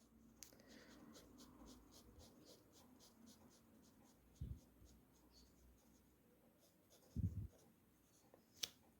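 Pen drawing on paper, soft scratchy strokes in a quiet room, faint and intermittent, with a few small bumps and taps.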